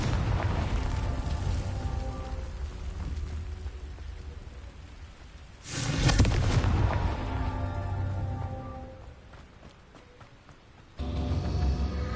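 Booming blasts from the Confringo explosion spell in a video game. A low rumbling bed leads to a sudden loud burst near the middle, which fades out, and another explosion strikes near the end.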